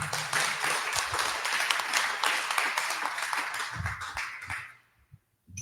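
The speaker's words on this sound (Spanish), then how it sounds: "Recibimos con un fuerte aplauso a nuestra maestra Itzel Guillén García." An audience at a panel discussion on gender violence breaks into strong, dense applause that holds steady for several seconds, then fades out, leaving a few scattered claps.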